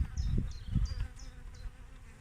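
Honey bees on a hive frame of nectar and pollen buzz close and loud, with several quick wingbeat swells passing in and out over low rumbling handling noise.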